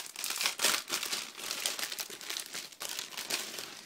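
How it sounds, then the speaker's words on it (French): Crinkly plastic packaging is torn and crumpled to open a LEGO Star Wars magazine, a close, continuous rustling with sharper crackles. "Donc on va commencer par ouvrir le magazine."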